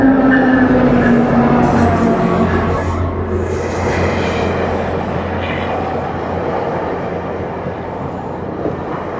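A long GO Train passes close by at a station in Mississauga, with a loud, steady rumble of rolling railcars and a high wheel squeal early on that fades into a continuous clatter.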